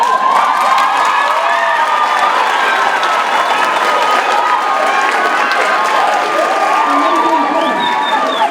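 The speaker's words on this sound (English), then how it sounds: "may we all stand up and give ourselves a warm round of applause for being here" A standing crowd at an Afrika Tikkun alumni day celebration applauds and cheers steadily, a dense wash of clapping with shouts and children's voices rising over it, loud and continuous throughout.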